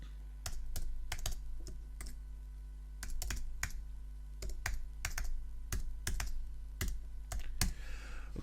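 Someone types a first name, last name and email address on a computer keyboard, a close, irregular run of crisp key clicks in short bursts over a low steady hum, with no talk.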